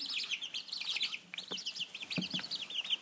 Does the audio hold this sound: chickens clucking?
yes